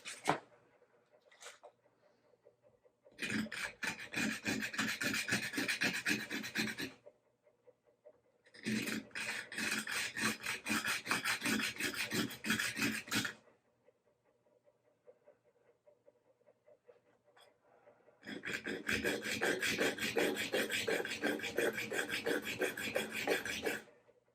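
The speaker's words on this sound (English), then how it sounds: "I'm probably just going to do this with my sanding block so that I don't risk chipping anything" Rhythmic rasping of a sanding block on a bone guitar nut from a 1953 Gibson L-50, three long bursts of rapid back-and-forth strokes separated by quiet pauses, close up.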